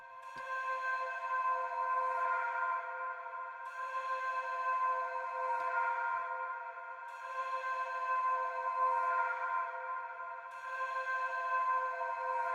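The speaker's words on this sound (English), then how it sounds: "pulled up this other flute loop from a different Somatics pack. I hit it with a bunch of effects" A reversed flute loop, heavily processed with effects for a dark UK drill beat in FL Studio, swells in repeated breathy tonal phrases, each rising and cutting off, cycling steadily at moderate volume with no voices.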